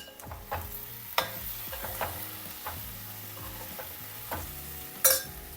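Okra fries in a pan, quiet but close, as a spoon scrapes and stirs it in repeated strokes over a soft sizzle, with one sharper clatter near the end.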